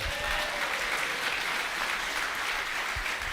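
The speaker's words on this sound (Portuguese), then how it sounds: "Uma salva de palmas para ele." Sustained applause from a crowd, steady and dense clapping filling the whole stretch without a break.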